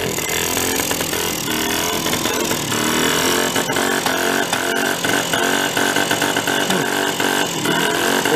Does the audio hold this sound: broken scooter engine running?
yes